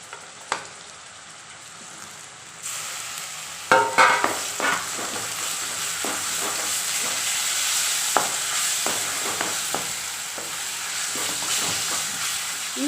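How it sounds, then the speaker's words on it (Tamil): Ginger garlic paste sautéing with softened onions in a pan for a green chicken gravy, a loud, continuous close sizzle broken by repeated spatula scrapes and knocks, with no one talking. "இஞ்சி பூண்டு பேஸ்ட் சேர்த்து நல்லா வதக்கலாங்க"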